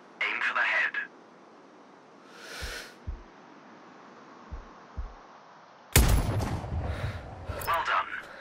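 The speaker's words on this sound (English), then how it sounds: "Now, shoot this target. Aim for the head." Sniper rifle shots at a practice target in the video game Sniper Ghost Warrior Contracts: a few short, dull thumps spaced apart, then a sharper, louder blast with trailing noise, with a voice talking briefly before and after.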